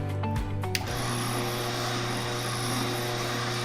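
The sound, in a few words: juicer running while juicing carrots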